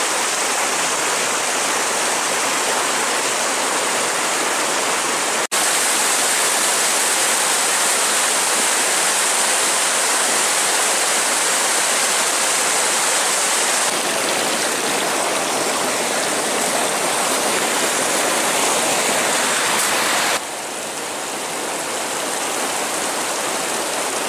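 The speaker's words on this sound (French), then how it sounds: "le ruisseau est bien gonflé" A swollen stream in winter woods rushes loudly and steadily, a dense broadband roar of fast water that stays constant throughout, close by, with no voices.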